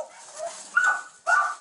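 Malnourished dogs whimper and give a couple of short barks or yips indoors, close and fairly loud, with brief pauses between sounds.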